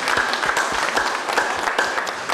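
An audience applauds at an international guitar festival, steady dense clapping filling the room throughout.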